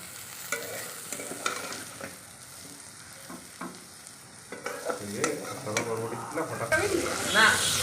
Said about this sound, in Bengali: ভালো করে নেড়ে ভাজা করে নেব